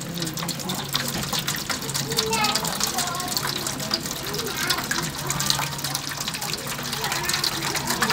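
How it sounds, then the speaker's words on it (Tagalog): Water is poured into a pan while making homemade spam, a continuous gushing fill under steady talk, with children's voices in the background. "liligyan po natin ng tubig"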